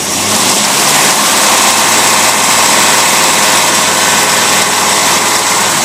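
A boat engine fitted with a Rochester two-barrel carburetor runs steadily at raised speed, a loud continuous droning roar with a constant rough hum and no pauses throughout.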